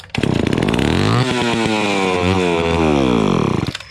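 A Homelite Super XL12 chainsaw screams at wide-open throttle, a loud, close, buzzing two-stroke whine that climbs and wavers for a few seconds before dropping off.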